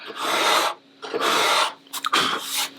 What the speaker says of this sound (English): I'm just going to sand the edge of that tape just a hair.